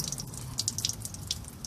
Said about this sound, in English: just blow a little compressed air in there and let the water drain out